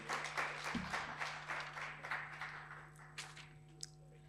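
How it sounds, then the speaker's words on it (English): A conference audience at a university library event applauding, a quiet, steady patter of clapping from a modest crowd that fades toward the end, with a low hum in the room. "Give her a big round of applause."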